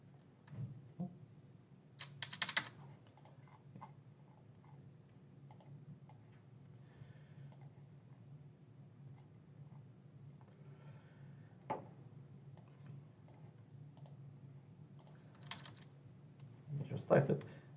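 Computer keyboard typing in an Excel spreadsheet, heard as scattered quiet key clicks and short bursts of keystrokes over a constant background hum.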